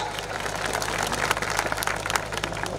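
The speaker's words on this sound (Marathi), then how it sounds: "करा की टाळ्या, टाळ्या करा की टाळ्या" A crowd claps at a kusti wrestling bout, dense sustained applause with many hands at once.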